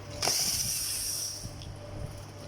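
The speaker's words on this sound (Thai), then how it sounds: "คลายน็อตออกนะครับ" A nut being loosened on a battery-powered toy motorcycle for children, heard as one short close ratcheting whir followed by faint mechanical clicks, no talk.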